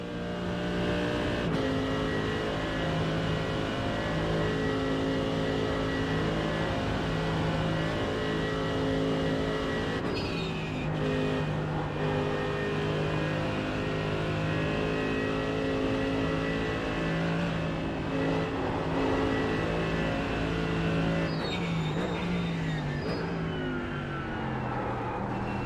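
Race car engine drones steadily at Nürburgring in iRacing, holding a sustained tone with shifts in pitch as the car changes gear and speed, loud and continuous throughout.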